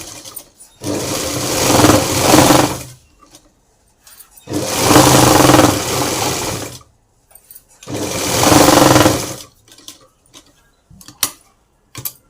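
A sewing machine stitching invisible piping onto a blouse: three loud, steady whirring runs of a few seconds each, separated by quiet pauses with small clicks and handling taps, close up.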